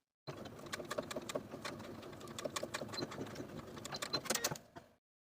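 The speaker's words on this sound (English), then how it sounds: "And then stitch along the upper edge with a 3/8 inch seam allowance." A sewing machine stitches along the upper edge of a dress front placket with a 3/8 inch seam allowance, running steadily for about five seconds with a dense mechanical whir and rapid ticking, close and fairly quiet.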